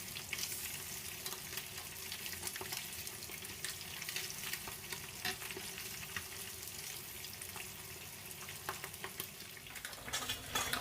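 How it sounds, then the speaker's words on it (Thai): Battered fish with roe fries in hot oil after being flipped, a constant soft crackling and bubbling sizzle that runs evenly throughout at low volume, with no voices. "เมื่อเรากลับด้านแล้วก็ทอดต่ออีกสักเล็กน้อยครับ"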